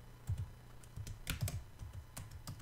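Close, quiet keystrokes on a computer keyboard as a password is typed, a handful of soft clicks in uneven bursts with short pauses between them and no talking.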